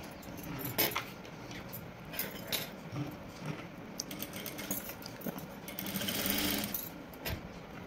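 A sewing machine fitted with a double foot stitches piping, a steady close mechanical whir and clatter running throughout with small metallic ticks, no voice over it.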